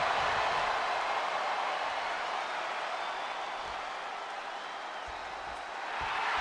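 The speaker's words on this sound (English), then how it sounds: "This capacity crowd is sending him love, and he's sending it right back." A dense, steady roar of a capacity arena crowd cheering in the wrestling video game WWE 2K25, filling the space evenly for several seconds with faint scattered clapping.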